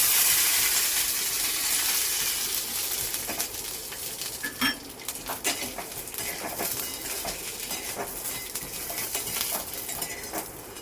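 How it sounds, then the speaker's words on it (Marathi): Peanuts roasting in a little oil in a pan for Kolhapuri red peanut chutney, giving a steady soft sizzle with scattered light clinks and scrapes of a utensil against the pan, fairly close and without talk. "थोडंसं तेल टाकून कडक करायचे"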